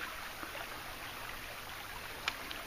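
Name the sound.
small creek flowing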